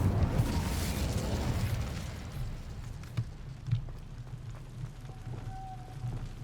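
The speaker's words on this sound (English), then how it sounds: "Incendio. Let's burn everything." Fire from the Incendio spell in Hogwarts Legacy burning things: a steady roaring, crackling whoosh that is loudest at the start and slowly settles, with a few soft pops later and no talk.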